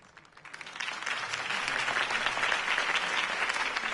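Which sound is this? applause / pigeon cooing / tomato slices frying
applause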